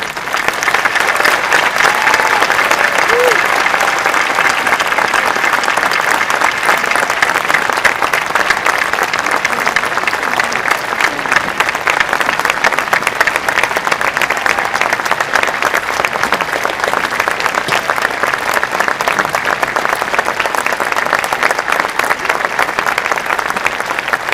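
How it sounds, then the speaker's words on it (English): An outdoor audience at a 2021 high school graduation ceremony applauds in sustained, dense clapping that holds steady throughout. "Please give him a round of applause for his service"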